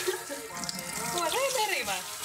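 Warm water runs from a tap into a kitchen sink, a steady splashing flow heard close up under a speaking voice.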